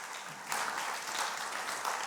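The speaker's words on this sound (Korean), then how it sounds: "우리 근호 너무 잘했는데 박수 한번 해줘." Church congregation applauding after a performance during a Sunday worship service, a steady broadband patter of clapping that swells after a quieter start and holds fairly even, moderately distant.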